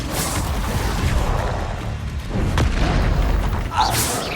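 The Confringo spell exploding in the Hogwarts Legacy video game: heavy, low booming blasts over a dense rumbling battle mix, with a brighter burst near the end.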